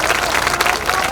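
An audience at a large public meeting claps loudly to welcome a mother who has stood up, a dense, continuous burst of applause with crowd noise and some voices mixed in.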